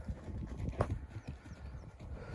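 Faint Vladimir heavy draft horses nearby, hooves clopping irregularly on the ground amid low rustling and outdoor background noise.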